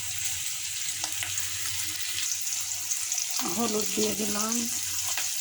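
Cauliflower and new potatoes with salt and turmeric fry in a pan, giving a steady, close sizzling hiss under a person talking.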